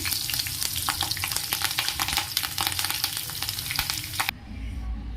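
Curry leaves hit hot oil in a tempering, bursting into a loud, spitting crackle full of sharp pops that runs for about four seconds before cutting off abruptly to quiet.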